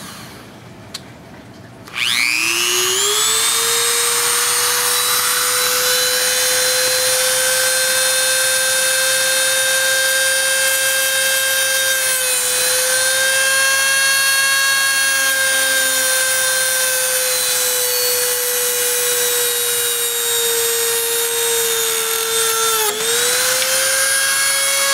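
A Dremel rotary tool spins up to a loud, steady high-pitched whine and keeps cutting close by, dipping briefly under load before rising again.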